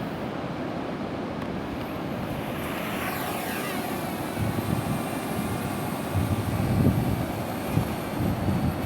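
A Parrot drone launches and flies out over the surf, a rising whine sweeping upward as it lifts off, then a steady buzzing drone mixed with the wash of ocean waves, growing louder.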